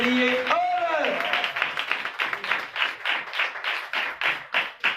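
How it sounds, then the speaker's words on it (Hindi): Worshippers at a Christian gathering clap together for Jesus Christ in a brisk, even rhythm that continues steadily after a brief spoken voice at the start. "यीशु मसीह के लिए जोरदार तालियां बजाएं।"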